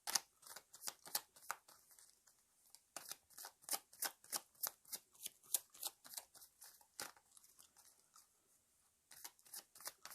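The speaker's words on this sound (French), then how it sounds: "Alors, je vais mélanger mon jeu." A deck of tarot cards is shuffled by hand, giving a close, quiet series of crisp, rhythmic card flicks and riffles with a short pause near the end.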